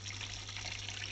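Water runs into a Panasonic 6.7 kg top-load fully automatic washing machine as it fills, a steady, faint trickle and splash with no one talking.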